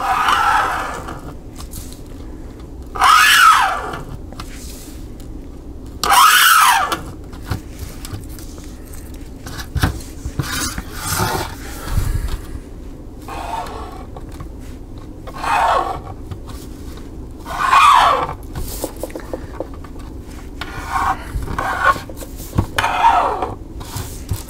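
Hobby blade or saw cutting through plastic parts of a 1/48 scale Revell Monogram model aircraft to remove the aileron, quiet intermittent scraping rasps in short bursts, close by and without talk.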